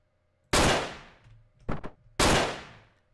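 Gunfire in the top-down video game Hotline Miami 2: Wrong Number: a loud single shot, then a quick double burst, then another loud shot, each with a ringing decaying tail and no voices.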